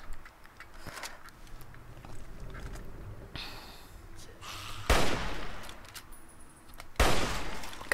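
Hunting rifle fire in Fallout 3 rings out as two loud, sharp reports a couple of seconds apart, each with a short decaying tail over a low game ambience and a softer burst of noise before them.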